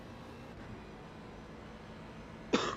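A single sharp cough bursts out near the end, close and loud, over a steady low background hum from a sports car racing game at Road Atlanta.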